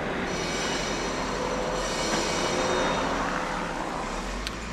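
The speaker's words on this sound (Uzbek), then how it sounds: "O, tramvay." A tram passing along a city street makes a steady, fairly loud rolling rumble with a faint high wheel squeal throughout.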